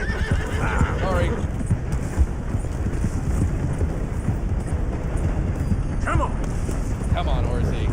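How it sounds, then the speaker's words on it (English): A horse neighs and whinnies with hooves clip-clopping steadily beneath, over a continuous noisy background, and voices talk at points along the way. "Come on, Horsey. We can do this. You need to move along"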